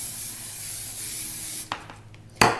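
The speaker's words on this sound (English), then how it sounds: "we need to use the spray first, or we could say the cooking spray." Cooking spray hisses onto a pan in a steady burst lasting over a second, then a short pause and a second quick spray spurt.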